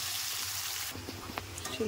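Teasel gourd frying in a pan over a low flame gives a steady close sizzle, broad and even for the first half, then quieter with small stirring clinks and a faint voice in the background.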